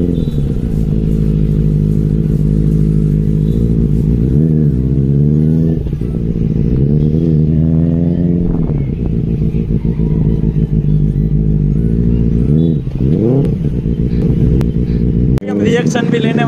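A Benelli TNT 600i four-cylinder superbike engine revs repeatedly, rising and falling in pitch with several loud throttle blips over a constant low rumble, close up and continuous, with a voice speaking near the end.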